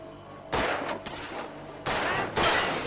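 Gunfire from the video game Control Resonant: four loud, sharp shots in an irregular rhythm, each a sudden broadband crack with a short decaying tail, close and alone with no talk.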